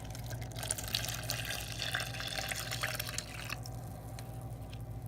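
Coffee being poured into a mixture of MCT or coconut oil for bulletproof coffee, a steady close liquid trickle and drip running for about three and a half seconds before easing off.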